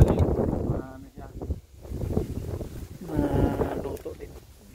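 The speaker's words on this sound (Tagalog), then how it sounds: "Sobrang lakas ng hangin." Strong wind gusts buffet an outdoor microphone, a broad rumbling roar that surges and fades across the clip, with voices talking underneath.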